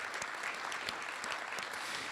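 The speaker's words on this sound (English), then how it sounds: "If we can give them a round of applause." Applause from a keynote audience, a steady wash of many hands clapping at a moderate, even level for the whole stretch.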